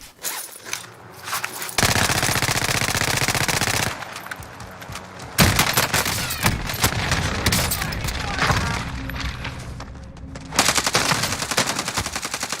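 Warzone video game gunfire: long bursts of loud automatic fire with rapid shots, broken by brief pauses and heavier blasts, lasting through the whole stretch.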